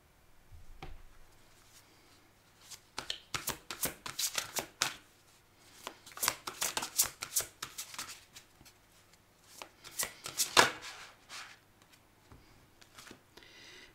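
Playing cards shuffled in quick riffling bursts separated by short pauses, crisp and close but fairly quiet, with no talking over them.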